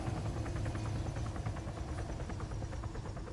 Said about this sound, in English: we can turn the engine off, and it can still move at this point as it can in real life, so it's best to let it sort of wind down